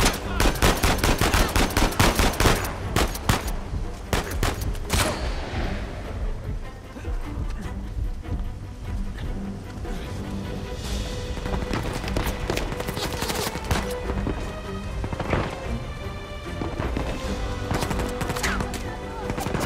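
Rapid bursts of gunfire in the video game Uncharted 4 crack repeatedly, loud and dense at first, then in intermittent volleys over a steady background.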